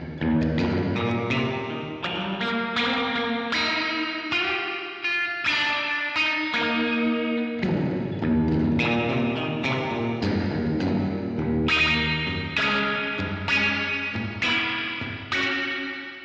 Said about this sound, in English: That is the weirdest spring reverb I've ever heard.